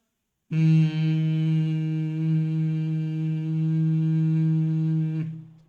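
A human voice mimics the low humming noise of an electrical transformer, sustaining a steady, buzzy drone for nearly five seconds before trailing off, close and loud with no other sound.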